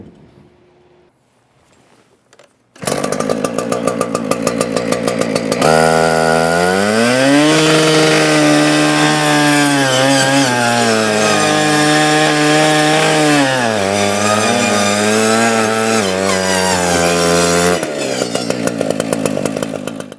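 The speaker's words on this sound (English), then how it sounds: "with my hand placement allowing the saw to run directly over the rafters" Loud power saw cuts through roof rafters during a firefighting ventilation drill. After a couple of seconds of near silence the motor snaps to a steady high whine that holds for about fifteen seconds, its pitch dipping under load, then ends in brief idling.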